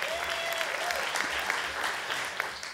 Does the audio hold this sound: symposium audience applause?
yes